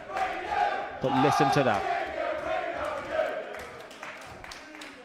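A darts crowd roars and chants for Keegan Brown, a loud swelling cheer with rhythmic shouts that peaks early and then eases into a steady crowd murmur, with a commentator talking over it.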